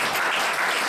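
A church youth-service congregation claps together in a steady, dense patter of applause, loud and close, with no voices rising above it.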